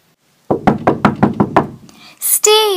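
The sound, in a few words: knock on a door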